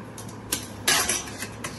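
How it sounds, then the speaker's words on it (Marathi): A metal steamer sieve is set down on a kadhai while jaggery dinde are being made, giving a few light metallic clinks and one louder clatter against the pan in a quiet kitchen. "आता ही चाळणी ठेवायची कढईवर"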